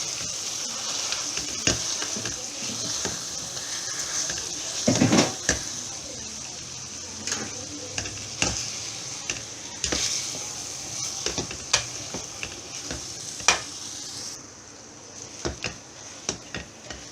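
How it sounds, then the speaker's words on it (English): Boiled potatoes mashed together in a hot frying pan, a steady sizzle running throughout with repeated soft thuds and scraping knocks of the masher against the pan. "You add them whole and then you just start mashing it all together."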